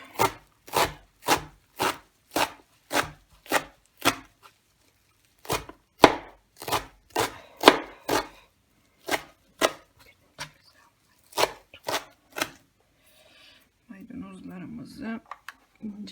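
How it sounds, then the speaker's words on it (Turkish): A knife finely chops parsley rapidly on a cutting board in quick bursts of sharp taps, pausing briefly between runs, with a little rustling near the end. "Maydanozlarımızı ince ince doğruyoruz."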